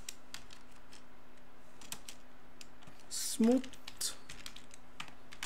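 Java code is typed on a computer keyboard in quick, light, close key clicks in irregular bursts, with a brief spoken word partway through.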